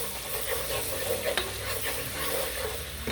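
A spoon stirs tablespoon of thyme into a spicy butter seafood boil sauce over low heat, a steady soft sizzle with scraping strokes close by and no talking.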